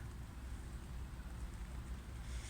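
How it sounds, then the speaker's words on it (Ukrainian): Steady outdoor rain falls at a garden centre, a dense continuous hiss of drops on surfaces that stays even and fairly soft throughout, with no voices. "Сьогодні дощик."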